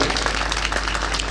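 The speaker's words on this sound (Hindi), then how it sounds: "एक बार जोरदार तालियों से इनका इस्तकबाल करें" Loud, dense applause from a mushaira audience in Meerut, steady, close clapping welcoming a poet that fills the whole moment without pause.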